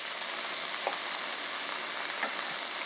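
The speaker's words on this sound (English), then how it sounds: "I just wanted to show you what the chicken looked like, seared on both sides" Chicken pieces searing in a hot pan for chicken and shrimp Alfredo, a loud, dense, unbroken sizzle with a few faint scrapes as pieces are turned.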